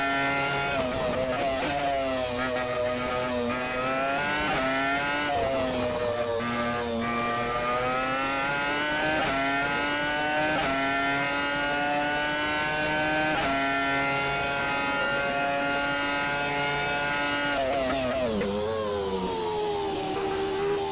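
A Renault R25 Formula 1 car's engine in a racing sim, screaming at high pitch with a rising and falling whine through gear changes and corners, loud and continuous with no pauses.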